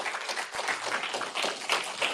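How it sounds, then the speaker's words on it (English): At a college town hall, an audience gives a brief round of applause, a steady wash of many hands clapping at moderate distance, with no speech over it. "Let's give them a round of applause."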